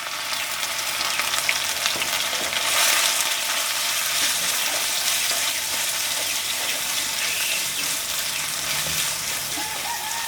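Crushed garlic and ginger frying in hot oil for a clam fry, a dense bright continuous sizzle close to the pan, with occasional stirring scrapes and a faint voice in the background.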